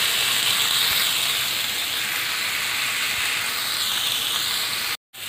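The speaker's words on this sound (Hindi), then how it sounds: "अब इसमें हम टमाटो ऐड करेंगे, इसको हल्का फ्राई होने तक इसको हमें भूनना है।" Chopped tomatoes fry in a pan with onions for tomato chutney, giving a loud, steady, close hiss that holds evenly throughout before a brief dropout near the end.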